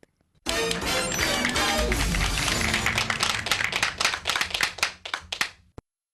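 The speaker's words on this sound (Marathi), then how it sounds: "सगळ्यांसाठी आपण जोरदार टाळ्या वाजवूयात" A burst of hearty clapping and applause starts suddenly, runs dense and loud for about five seconds, then thins into scattered claps before stopping abruptly.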